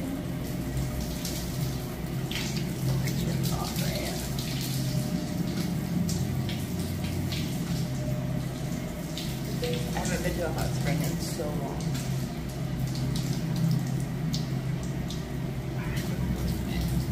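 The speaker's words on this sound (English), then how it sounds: "So we have a shower before we get in." A shower runs steadily in the bathing area of a large mineral hot spring, its broad wash of spraying water continuing unbroken and fairly close throughout, with a faint hum and muffled background sounds underneath.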